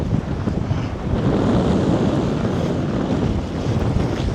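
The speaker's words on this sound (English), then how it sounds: "water's smashing against the front" Waves smash continuously against a harbour front in Side, Turkey, a loud rushing surge mixed with strong wind buffeting the microphone, with no voices.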